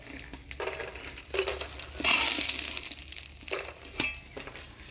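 Lentil dumplings (dal bori) frying in hot oil sizzle and crackle unevenly, with scraping and clinking from a utensil stirring the pan and a louder burst of sizzle partway through.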